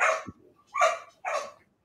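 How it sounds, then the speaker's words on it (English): Dogs bark in three sharp, close barks spaced about half a second apart, moderately loud with no talk. "The dogs, I love your dogs, Rich, but not when we're just making random"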